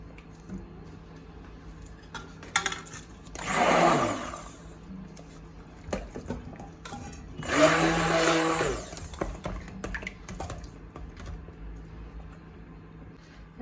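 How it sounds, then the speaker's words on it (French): Two short bursts from a hand blender churning cold-process soap paste tinted green with olive oil, each a whirring buzz lasting about a second, separated by quiet handling noises. "Donc je vais mixer très légèrement"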